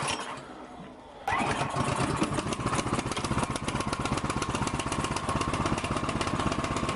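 A Yard Machines two-stage gas snow thrower engine catches on a pull start, going from quiet straight into loud, steady, rapid chugging as it keeps running close by.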